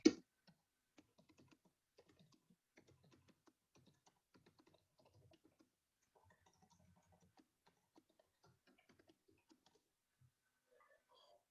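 Light, sparse keystrokes on a computer keyboard tick irregularly for several seconds, very faint and close, with no voices over them.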